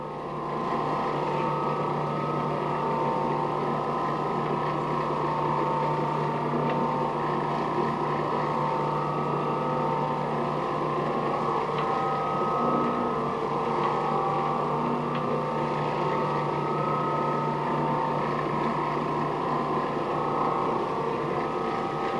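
An Oreck Orbiter floor machine spray buffing a waxed floor, a constant steady motor hum with a fixed low tone and even whirring that holds unchanged and close for the whole stretch.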